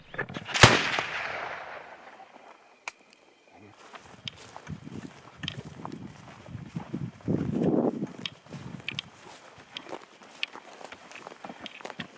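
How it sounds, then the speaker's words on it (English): A single sharp 30-06 rifle shot from a hunt on African plains cracks loudly near the start, followed by outdoor rustling, movement and voices talking quietly. "With his rifle re-zeroed on the range, Mike makes another great shot."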